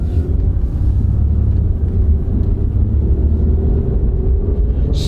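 Steady, loud car engine rumble from inside a used car, a low drone holding throughout with a slight rise in pitch as it accelerates smoothly.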